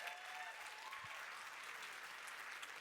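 Steady audience applause at a talk on real estate and entrepreneurship, a continuous even wash of many hands clapping, faint and distant, without distinct individual claps.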